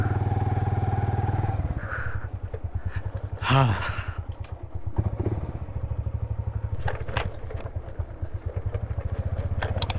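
Motorcycle engine running steadily up close on a bike trip to Panjpir Rocks in Pakistan, a continuous low idle with rattling clatter throughout and a brief short word spoken over it.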